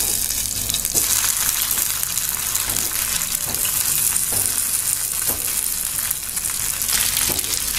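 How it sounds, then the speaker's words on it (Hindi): Mung dal and semolina balls shallow frying in a hot tempering of spices, a loud, steady sizzle with bursts of crackling and occasional stirring clatter, close and continuous with no talk. "बॉल्स को हम तड़के में सेलो फ्राई कर लेंगे।"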